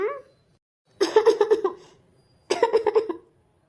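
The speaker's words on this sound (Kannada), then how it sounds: "ಯಾಕೆ ತುಂಬ ಕೆಮ್ತಾ ಇದ್ದೀರಲ್ಲ" An older man coughing in two hard fits, each a rapid burst of several barking coughs, close and loud with quiet pauses between them.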